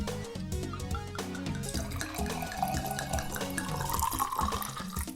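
Homemade beetroot wine pours steadily into a glass, a continuous liquid splashing and gurgling stream with no talk.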